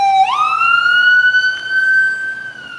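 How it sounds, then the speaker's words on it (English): A loud ambulance siren in Washington, D.C., rising in a steady wail and holding its pitch, close by and clear against faint background noise. "so excuse the siren."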